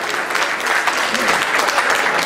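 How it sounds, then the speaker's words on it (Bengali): Audience applause at a Bengali New Year celebration in New York: loud, steady clapping from a crowd fills the whole stretch without a break. "আরো একটি করতালি হবে।"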